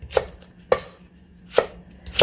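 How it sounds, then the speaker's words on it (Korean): A knife chops through the green tops of a Korean leek (daepa), cutting them into thin strips on a board: four sharp, close cuts in an uneven rhythm, with no other sound. "파란 부분만 해서 이렇게 채 치듯이 좀 이렇게 썰어주세요."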